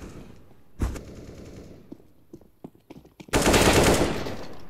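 Gunfire in the video game CS:GO: a few isolated shots early on, then a loud sustained burst of rapid automatic fire near the end, with no talking.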